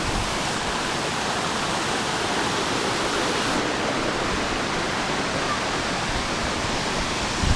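Long Creek Falls, a waterfall along the Appalachian Trail, pours in a steady, dense broadband roar that is close and constant throughout, with no breaks and no voices.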